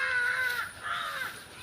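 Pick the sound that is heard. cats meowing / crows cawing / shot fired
crows cawing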